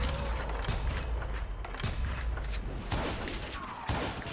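Gunfire in the Western shooter Call of Juarez: Gunslinger, several sharp shots fired at uneven intervals over mechanical game effects and background noise, fairly faint.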